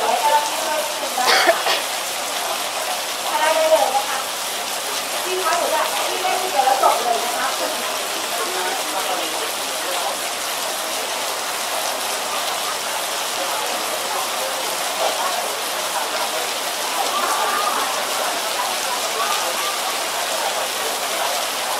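A group of people imitate rain during a live demonstration, producing a steady pattering hiss with a few louder spattering bursts. Voices of the crowd can be heard in the background.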